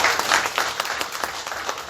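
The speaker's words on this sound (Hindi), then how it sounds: "तो हम चाहब कि संदीप बंसल जी खातिर आप लोग जोरदार ताली बजाएंगे" An audience at a Bhojpuri OTT channel launch event breaks into loud applause, a dense steady wash of many hands clapping, close and filling the short moment.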